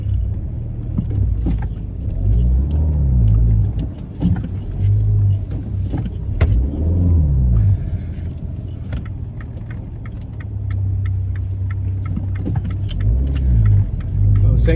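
A 2015 Abarth 500 hatchback drives along on a test drive, its engine droning steadily with low road rumble and rising revs, alone without talk, and occasional clicks and rattles from the cabin.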